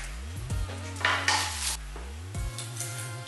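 Snapper fillets frying in a pan, giving short bursts of hissing sizzle and light pan clatter over a steady musical backing, with no talk.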